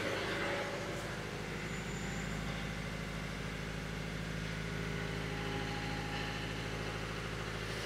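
A car engine runs steadily at roughly 1800 rpm during a workshop head gasket check, a continuous low idle-like hum that stays level and fairly quiet throughout with no talking.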